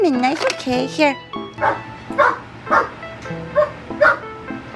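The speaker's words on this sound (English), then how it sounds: "that's the sound of a dog" A person speaks briefly, then a dog barks about five times at an even pace, close by.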